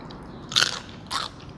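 Two close, crisp crunches as a crispy fried snack, eaten with chili paste, is bitten, each a short bright crackle over a quiet background.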